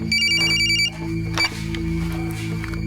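A telephone bell rings in repeated trilling bursts for the first second, then stops, leaving a steady low hum and faint room noise.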